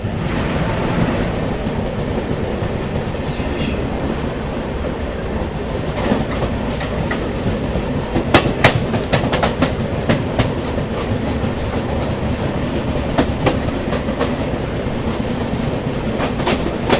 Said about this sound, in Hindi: तो फिलहाल ये है धनबाद से चल के चंडीगढ़ को जाने वाली गरीब रथ स्पेशल ट्रेन